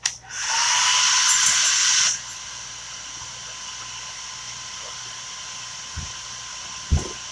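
A hair dryer blows on fresh chalk paste stenciled onto a pumpkin, a steady broadband whoosh for about two seconds before cutting off, leaving faint room hiss and a couple of soft knocks.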